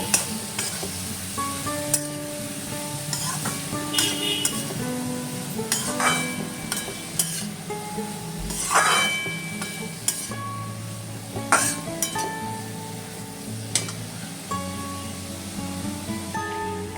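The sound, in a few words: stirring bottle gourd with spices in a frying pan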